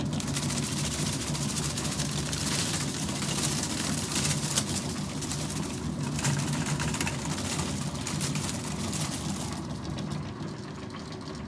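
A homemade micro hop harvester runs steadily as it strips hop cones, giving a continuous mechanical whir and rattle at moderate level with no talking over it.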